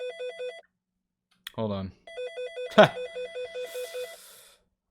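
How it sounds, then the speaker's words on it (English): Mobile phone ringtone, a repeating electronic melodic pattern that plays in short bursts, interrupted by someone speaking briefly and a sharp clunk before the tone resumes. "This is my real ringtone, by the way."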